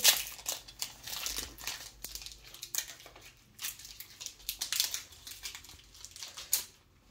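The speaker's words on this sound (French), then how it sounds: "c'est le dernier paquet. On va l'ouvrir avec la peur." A Pokémon card booster pack crinkles and tears open in close, irregular bursts of crisp foil rustling separated by brief quiet gaps.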